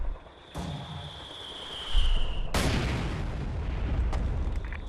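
Mortar fire in the Company of Heroes 2 strategy video game: a heavy boom hits, followed by a long rumbling tail and a fainter crack. A whistling tone comes just before the impact, and no speech is heard.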